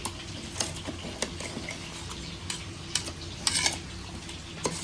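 Chicken frying in a pan for a buttermilk curry, a steady close sizzle broken by the sharp clinks and scrapes of a spoon stirring against the pan, with no talking.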